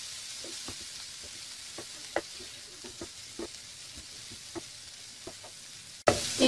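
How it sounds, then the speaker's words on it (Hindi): Green peas frying in a pan for kachori filling, giving a faint continuous sizzle with scattered scrapes and taps from stirring, then a sudden louder clatter right at the end. "अच्छे तरीके से हम भूनेंगे।"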